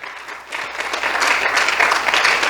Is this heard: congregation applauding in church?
yes